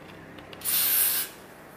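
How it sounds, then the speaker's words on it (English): Hairspray hisses from an aerosol can in a single short, close burst lasting about half a second, onto a bob styled on a lace wig. "I'm gonna put a little bit more hairspray on."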